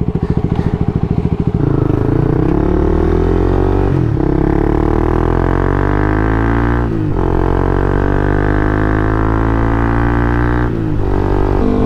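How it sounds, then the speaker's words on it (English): Motorcycle fitted with a dB killer in its exhaust, ridden up through the gears: a loud, close engine whose pitch climbs, then drops briefly at each of three gear shifts before rising again, with no voices. "bike makes some noise now"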